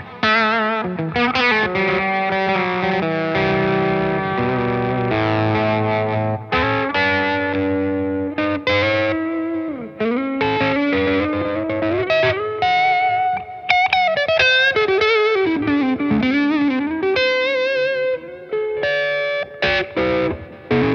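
An electric guitar on the bridge pickup plays through a Synergy Bogner amp module at low gain with the boost off. It gives a continuous run of chords and single-note lines with a slightly muffled, lightly driven tone. The playing goes on alone for about twenty seconds with no voices.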